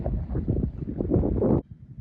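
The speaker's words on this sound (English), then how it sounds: "here comes another bit of wind" Cold wind gusting across an estuary on the River Yealm while sea fishing, a loud, close rumbling buffet on the microphone that drops away abruptly near the end.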